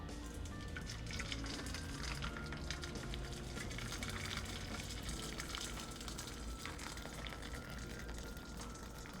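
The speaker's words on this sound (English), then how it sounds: "I'm just going to pour it on the outside of the bowl" Steady watery splashing and trickling as hot water is poured around the outside of a bowl of oil, a continuous close pour with faint clinks, no voices.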